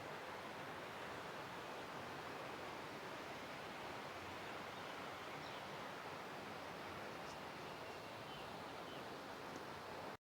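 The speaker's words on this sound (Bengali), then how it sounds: "আর ওপর থেকে যে বশিষ্ঠ ঝর্ণা দেখিয়েছিলাম, সেই বশিষ্ঠ ঝর্ণা নিচ থেকে দেখাচ্ছি" Vashistha waterfall at the Vashistha temple ashram near Guwahati, heard from below: a steady, dense broadband rush of falling water, constant and unbroken, faint overall, with no voices.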